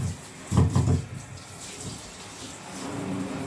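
Water rinsing out a bathtub at home, a short louder gush near the start followed by a steady, softer running wash, close by and with no voices.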